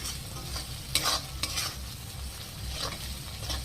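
Spice paste fries in a pan for a beef or mutton tripe bhuna, a quiet steady sizzle with a few brisk scraping stirs up close.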